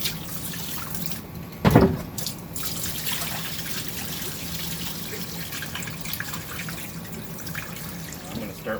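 Dirty aquarium water from a Fluval 406 canister filter pours and trickles into a sink, a brief louder splash early on, then a steady close running flow with faint dripping.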